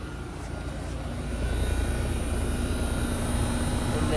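A Trane XR13 2-ton heat pump from 2011 starts up outdoors, its broad steady fan and compressor whoosh swelling after about a second and then holding loud and constant.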